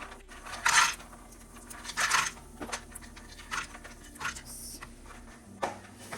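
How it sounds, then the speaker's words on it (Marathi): Almonds dropped into a pan with ghee for roasting: several hard clattering bursts of nuts hitting metal, two loud ones early then lighter scattered taps and rattles, close and dry. "आता यामध्ये मी पहिले आल्मंड्स घालते"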